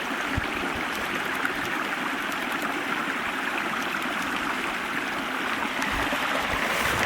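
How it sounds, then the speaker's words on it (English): A babbling brook at an outdoor survival camp gives a steady, close rushing and gurgling of flowing water that carries on without a break the whole way through, with no voices. "I told you all babbling brooks were important. Listen to that babble."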